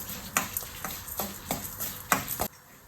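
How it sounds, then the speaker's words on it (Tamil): Spices are dry-roasted and stirred in a kadai until golden for curry leaves rice. A spoon scrapes the pan in repeated rhythmic strokes over a soft sizzle, close and clear. "இது எல்லாத்தையும் கருக விட்டுறாமல் நல்லா கோல்டன் கலர் வர வரைக்கும் வறுத்து எடுத்துக்கோங்க."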